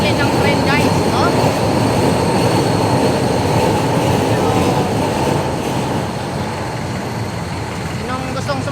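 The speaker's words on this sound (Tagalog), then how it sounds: "Sasakay kami ulit ng tren" Steady rumble and clatter of riding inside a moving train, with faint wheel squeals and indistinct voices murmuring beneath the noise.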